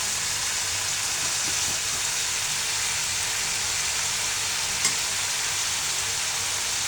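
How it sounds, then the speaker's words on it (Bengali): Broccoli and mixed vegetables stir fry in a hot pan with a steady, even sizzle. Faint scrapes of stirring come through under it. "তো এই তো আমি আস্তে করে নেড়ে দিচ্ছি, লাড়া দিচ্ছি আর কি।"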